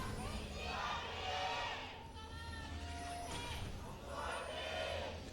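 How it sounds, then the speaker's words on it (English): A crowd of esports fans at a League of Legends match cheers and shouts in swelling bursts, rising, fading, then rising again at a moderate distance. "Couple of KONGDOO fans cheering."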